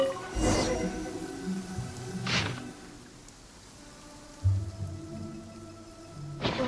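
Steady rain falls in the Genshin Impact game world near the Blackcliff Forge, a soft continuous wash broken by a few brief louder bursts and low tonal game sounds.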